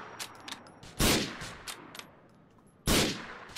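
Two loud, sharp gunshot blasts ring out about two seconds apart in Grand Theft Auto IV, each with a short echoing tail, over quieter ambient game noise with faint intermittent clicks.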